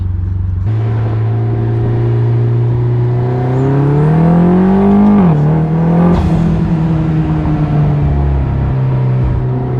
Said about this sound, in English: we're gonna go through the tunnel and let it rev up real high and shift